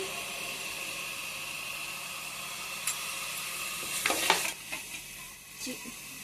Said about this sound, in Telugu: చికెన్ మసాలా అండి ఇది మసాలా పచ్చి వాసన రాకుండా బాగా వేగనిద్దాము